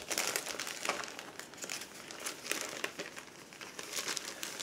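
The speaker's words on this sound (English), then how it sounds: "Just give me a second to remove them out of their plastic bag" Sheets of decals being slid out of a clear plastic bag for a 1/72 Eduard model kit, giving continuous close crinkling and crackling plastic rustle with no speech.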